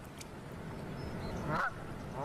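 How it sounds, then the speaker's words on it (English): Canada geese honking and goldeneye ducks quacking together outdoors, a busy overlapping chorus of waterfowl calls with a steady background wash. "Canada geese and golden-eyed ducks may have only traveled a few kilometers."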